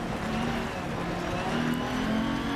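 An Audi Quattro rally car's engine drones and revs in the Dirt Rally 2.0 video game, a steady, moderately loud note with shifting pitch and gravelly road noise, no speech.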